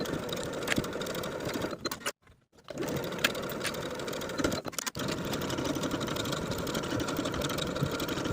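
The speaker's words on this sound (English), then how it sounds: "Sew the shoulders with a 3/8 inch seam allowance" A sewing machine stitches the shoulder seams of a ruffle sleeve top with a 3/8 inch seam allowance, a steady close whirr running throughout with two brief pauses near the middle.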